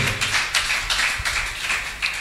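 A church congregation claps for Jesus in a dense burst of applause, many hands striking together with a pulsing rhythm and no voices over it.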